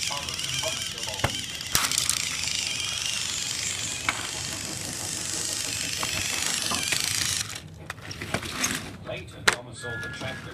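A TOMY TrackMaster Terence the toy tractor runs with a bright, buzzing motor whir for about seven seconds, then cuts out into scattered clicks and handling noises.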